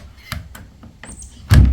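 Latch on an Amish-made Stoltzfus shed door being turned to lock, giving a few light taps and clicks, then a louder close thunk at the end.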